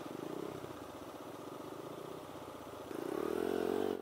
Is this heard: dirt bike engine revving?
yes